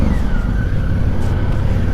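Ducati motorcycle engine running nearby, a loud steady low rumble with a faint rising whine, continuous throughout.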